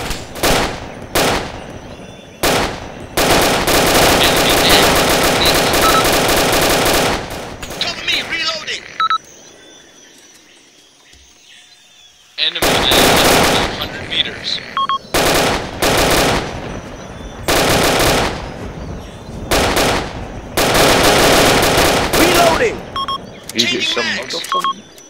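Gunfire in the video game ArmA 2 Vietnam, with long loud bursts of automatic fire broken by short pauses and one quieter stretch, close and harsh, while players talk over it.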